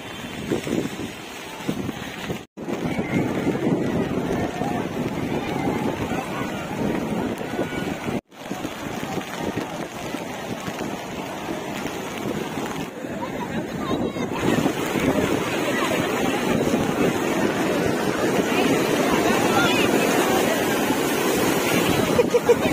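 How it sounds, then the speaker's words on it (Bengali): Sea waves and gusting wind at Puri beach in the rain make a steady loud roar with surging surf and microphone buffeting throughout, briefly cutting out twice, with voices possible beneath. "শেষমেশ এই বৃষ্টির মধ্যেই আমাদের সমুদ্রে যেতে হচ্ছে।"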